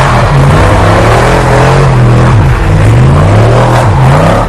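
Batman's car power-sliding through a corner during a chase, a loud engine revving and falling in pitch with rising and dipping sweeps as it drifts, close and continuous with no talk.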